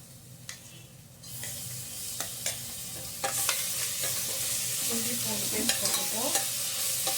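Ingredients sautéing in a pan for Karnataka-style bisibele bath, with a steady sizzle that grows louder partway through and repeated scraping strokes of a spoon stirring, close up and without any talking.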